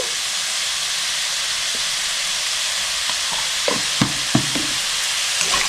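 Chicken soup sizzles and hisses steadily in a pot as it is stirred after salt goes in, with a few soft scraping clicks and knocks toward the end and no talking.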